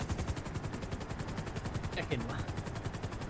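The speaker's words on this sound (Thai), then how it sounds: "เอาปืนทั้งหมดไปยืนอยู่ดาดฟ้าแล้วเตรียมยิงฮอมัน" Rapid automatic gunfire in a GTA V game session targets a police helicopter in a fast, even stutter of shots under a steady rotor drone, with a voice speaking briefly in the middle.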